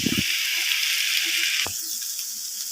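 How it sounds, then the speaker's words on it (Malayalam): Fennel and black pepper sizzling in hot oil while roasted for a Kerala squid roast, a steady bright hiss of frying with a brief stir clatter near the start and one more in the middle. "നമുക്ക് ഇതെല്ലാം കൂടെ ചേർത്ത് നന്നായിട്ടൊന്ന് മൂപ്പിച്ചെടുക്കാം"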